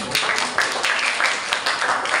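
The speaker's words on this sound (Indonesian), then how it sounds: "Tepuk tangan untuk kelompok 5" A classroom of students claps for group 5 after a quadratic functions lesson, a short burst of quick, fairly close clapping in loose rhythmic pulses lasting about two seconds.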